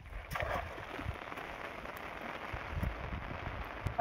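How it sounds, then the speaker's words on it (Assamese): Heavy rain pours down outdoors during cast net fishing, a dense, even hiss of drops hitting surfaces that continues steadily throughout at moderate distance. "বৰষুণটো বহুত জোৰে আহিছে"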